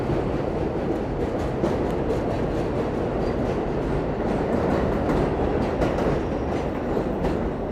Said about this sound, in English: So here's the 7 train passing through.